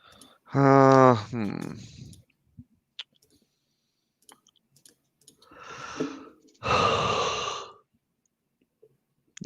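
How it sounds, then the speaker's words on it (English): A person on a fantasy baseball draft night podcast gives a long, loud voiced yawn close to the microphone, then after a pause lets out two more drawn breathy exhalations, with faint clicks in between. "Yawning on the broadcast."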